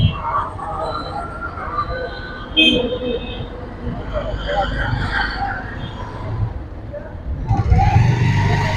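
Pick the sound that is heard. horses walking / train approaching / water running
train approaching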